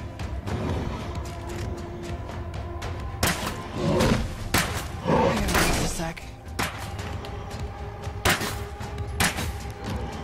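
Sharp bursts of State of Decay 2 gunfire crack out in irregular clusters, some shots single and others rapid, over a constant background rumble.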